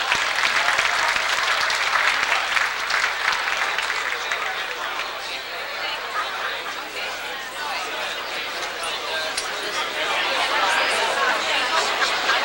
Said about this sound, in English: Come on, ladies and gentlemen, give a good round of applause there